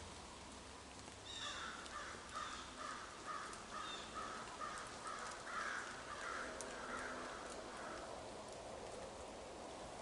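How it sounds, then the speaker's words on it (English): Crows caw in a forest by a river in damp weather, a run of about a dozen harsh calls at mid distance, faint against a soft rain-like background hiss. "Right now I got the crows making some noise."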